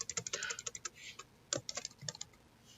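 Computer keyboard typing with irregular bursts of quick key clicks, close and fairly quiet, with brief pauses between runs of keystrokes.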